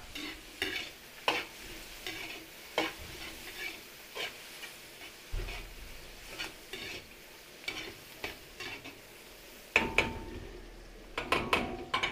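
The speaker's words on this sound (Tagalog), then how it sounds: "Lagay po tayo ng chorizo dito sa ating pangkaldereta. Sabay natin sa gisa." Chorizo sautés in a pan for kaldereta, a soft sizzle beneath regular, rhythmic scraping strokes of a spatula stirring every second or so, with a livelier clatter near the end.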